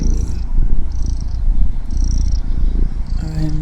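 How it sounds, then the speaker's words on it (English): A kitten lying on a person's chest purrs steadily and close up, a continuous low rumbling vibration that runs throughout. "This little thing sitting on my chest, purring a little heart out."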